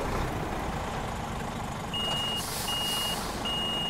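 Scania Streamline G400 truck in Euro Truck Simulator 2 idling with a steady low engine rumble, while a repeating reversing beep sounds in three evenly spaced pulses over the engine.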